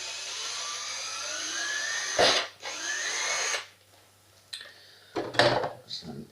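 A power drill boring mounting holes for HPI Bullet RC car parts, whining in a couple of short close bursts that rise and stop, followed by faint handling clicks and knocks.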